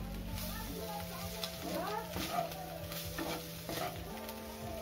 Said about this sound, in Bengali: এবার দেখো খুব ভালো করে নেড়ে নিচ্ছি।